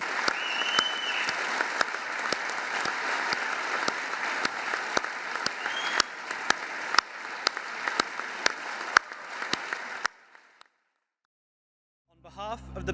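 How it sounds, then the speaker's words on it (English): An audience in a theatre at a school graduation ceremony stands and applauds graduates as they leave, a dense, sustained wash of clapping that stops abruptly, followed by a short silence and then faint sounds. "can we please stand and offer applause to our graduates as they leave the theatre"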